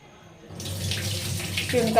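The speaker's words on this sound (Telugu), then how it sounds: "రెండు సార్లు అలా కడిగేసుకోండి వాటర్లో కడిగేసుకొని వంచేసుకోండి" Moong dal being rinsed under a running tap in a kitchen sink, a steady close splash of water that begins after a brief quiet start and swells slightly toward the end.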